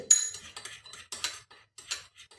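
A spoon stirs a homemade facial pack in a small bowl, making close, brisk bursts of clinking and scraping in an uneven rhythm with short pauses between strokes and no speech.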